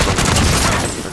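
Gunfire in Call of Duty Warzone on Rebirth Island: a short, loud, dense burst of rapid shots with booming low end, filling the whole brief moment without talk.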